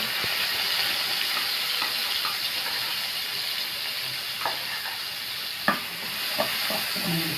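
Garlic frying in hot oil for Egyptian koshari makes a close, continuous hissing sizzle, with scattered stirring scrapes and a sharper clack about two-thirds through.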